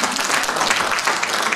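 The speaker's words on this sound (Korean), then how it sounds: "이분들께 박수를 좀 보내주세요." Seminar audience applauding couples married over twenty years at a family-healing counseling lecture in Busan, a steady, dense wash of clapping filling the room from start to finish without pause.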